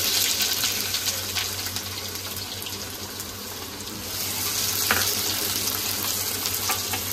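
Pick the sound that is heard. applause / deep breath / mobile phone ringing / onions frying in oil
onions frying in oil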